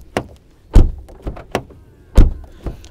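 Several car doors of a Renault Talisman and a Skoda Superb thunk shut one after another, sharp solid closing sounds separated by short pauses.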